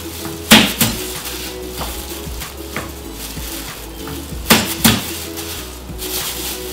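Garlic and ginger are smashed for a beef marinade, giving two pairs of sharp, close knocks on a board a few seconds apart, with a faint kitchen background between them.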